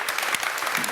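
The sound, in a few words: audience clapping at talk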